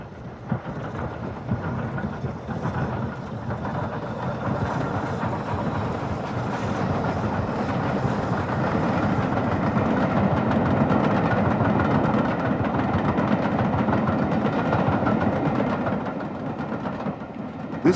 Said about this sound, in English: The final 9F, also preserved directly out of service, is Evening Star, seen here on an excursion from Scarborough to York.